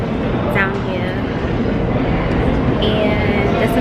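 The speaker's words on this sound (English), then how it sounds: "it's another train coming" A subway train arrives in a hot underground station in New York, a loud continuous rumble and roar with faint squealing brake tones, heard close with people talking over it.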